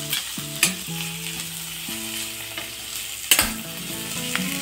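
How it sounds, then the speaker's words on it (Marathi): Vegetables for masala khichdi sizzle in hot oil in a pan as a spoon stirs them, with a steady frying crackle broken by sharp scraping clanks, over a faint sustained low hum. "चांगले मी आता परतून घेते, म्हणजे थोड्या भाज्या नॉर्मल ह्याच्यात तेलात शिजून निघतील"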